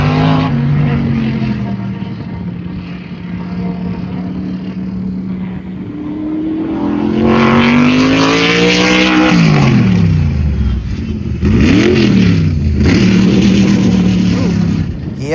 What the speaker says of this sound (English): that was me trying to downshift it, and not successfully